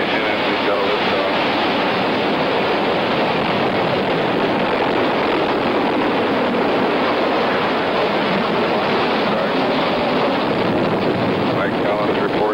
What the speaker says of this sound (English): Ignition. Ignition as we go liftoff.